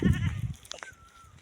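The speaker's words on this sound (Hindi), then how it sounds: "बकरी को भी साथ में लेके आई हूँ" A goat bleats once, a short, loud, wavering cry close by, then a quieter outdoor background follows.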